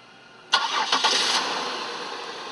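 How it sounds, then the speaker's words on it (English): A late-model GM car, with the transmission connector unplugged, starts up: a sharp cranking burst and catch, a few quick surges, then the engine settles into a steady idle, close and clear with no talk. "get in the car and start it up."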